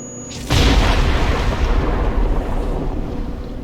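A sudden, loud explosion in the Star Trek Online game bursts in with a deep boom, then rumbles and fades slowly over a few seconds.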